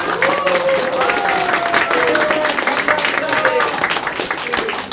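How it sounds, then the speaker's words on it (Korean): A crowd claps steadily at a press conference for Choo Mi-ae, a Democratic Party candidate in Hanam, while voices carry through the continuous applause. "여러분 박수 다시 한번 보내주세요."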